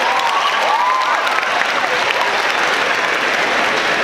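Loud, dense applause from a large convention crowd for young people at an ICNA Convention live performance, a continuous roar of clapping with faint cheering, steady and close throughout.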